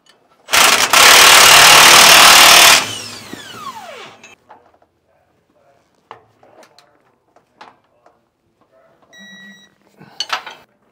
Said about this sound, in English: go ahead and get these torqued down.